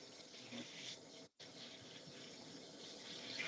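Steady running water from a tap, a continuous hiss with a brief break partway through, fairly faint and without voices.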